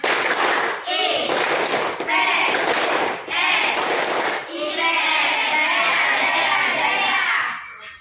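Schoolchildren in a classroom perform a rhythmic spirit clap, several sharp bursts of group clapping and chanting in a quick pattern, followed by a longer sustained burst of clapping and voices that fades out at the end.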